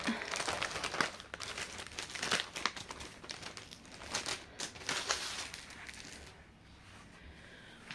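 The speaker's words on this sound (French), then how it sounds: "Je la déballe tout de suite." Plastic packaging crinkles and tears as an embroidery canvas is unwrapped, a close, busy rustle of crackling wrap with bursts of rattling that thins out and fades toward the end, with no talking.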